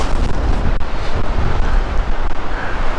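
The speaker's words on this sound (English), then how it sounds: "I can't believe this wind!" Strong wind of about 20 mph buffeting and roaring across the microphone in gusty, uneven bursts at a lakeside campsite, loud and close throughout.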